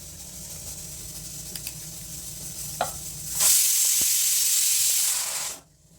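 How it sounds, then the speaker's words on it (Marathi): A pressure cooker in a home kitchen lets out a loud, steady hissing whistle for about two seconds, then cuts off abruptly, following faint kitchen clinks and background hum. "कुकरचा आवाज येत असेल"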